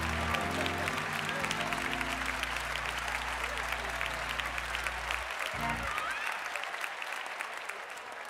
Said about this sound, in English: you all need to applaud for my man, Reverend Edward S. Rennie.